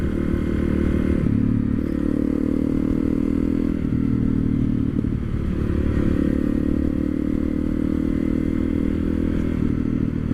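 A 2013 Honda CRF 250 L dirt bike with an aftermarket exhaust idles and runs steadily close by, its low, even engine drone continuous for the whole stretch with a few faint clatters and thumps.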